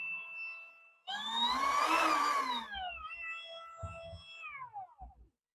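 A Lucid LS-08 battery chainsaw motor starts up with a loud, rising electric whine, holds for about a second and a half, then winds down through falling tones that fade out.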